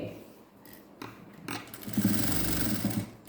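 A sewing machine stitches a seam along a fabric edge, starting after a quiet pause and running as a steady fast whirring buzz, fairly close.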